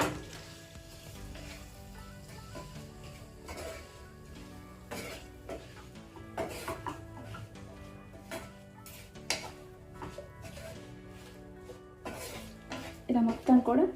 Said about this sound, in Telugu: ఇలా మొత్తం కూడా మిక్స్ అయ్యే విధంగా కలిపేసుకోవాలి